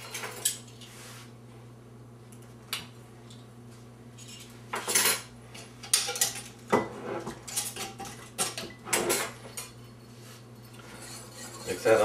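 Flour, baking powder and salt are stirred together in a bowl for a Yorkshire pudding batter, with a spoon clinking and scraping against the dish in short irregular bursts over a steady low hum.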